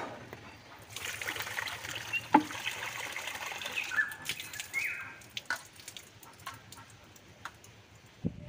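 Rice is rinsed under a running tap at an outdoor cooking spot, a faint steady trickle of water with scattered small ticks and clinks, quiet and without talk.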